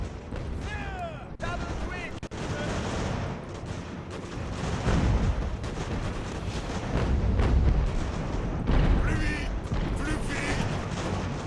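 Cannon and musket fire from the strategy game Ultimate General American Revolution rumbles in dense, overlapping booms and crackles, with someone talking over the continuous battle noise.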